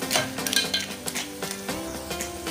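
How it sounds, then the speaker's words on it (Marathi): Turmeric powder and masala are sautéed in a pan with cooked clams for a Goan tisryanche sukhe. A spatula clinks and scrapes in rapid metallic taps over a soft sizzle, close up and with no talking. "आता मी त्याच्यात हळदी पावडर घालते आणि मसाला घालते आणि थोडं परतून घेते."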